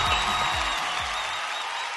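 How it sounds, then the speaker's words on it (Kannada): Studio audience clapping at a comedy performance show, with dense steady applause running throughout at moderate level, a few heavier claps standing out early before it evens out. "ಸೂಪರ್ ಅಮ್ಮ, ಚಪ್ಪಾಳೆ ಹೊಡಿದ್ವಿ."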